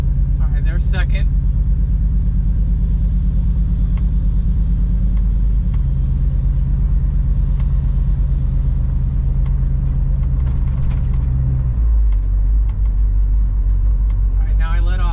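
A 1969 Plymouth Fury III pulls along in second gear, its engine a steady low rumble that drops in pitch near the end as the throttle eases, with brief talk over it.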